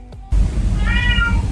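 A house cat gives a single drawn-out meow over steady low room noise, the call rising and falling over about half a second.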